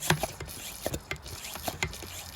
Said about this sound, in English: we are going to use our spray bottle, our pressurized spray bottle, which I'm pumping now